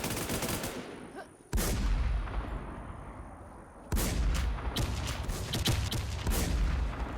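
Gunfire in a Thai-played shooting game, a steady loud stream of shots that swells abruptly into heavier bursts at two points, with no talking.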